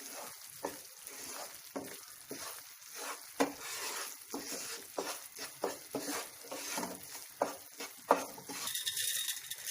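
Frothy jaggery syrup bubbles and sizzles in a pan while a spoon repeatedly scrapes and stirs it, giving a steady hiss broken by regular rhythmic scraping strokes, close and moderately loud, with no talking.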